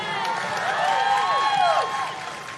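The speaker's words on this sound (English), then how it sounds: "Can we get another round of applause for Ashley?" Audience at a college graduation ceremony applauding and cheering, a steady wash of crowd noise with rising whistles or whoops, fading slightly at the end.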